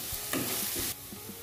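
Chopped onions fry in a pan for a vegetable cutlet mixture, a short burst of soft sizzle with a few muffled stirring scrapes, fairly quiet and close, cutting off abruptly partway through.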